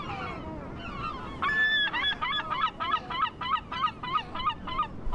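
Long call of a herring gull or black-backed gull: a rising wail followed by a rhythmic run of loud, honking yelps, close and clear over faint background noise.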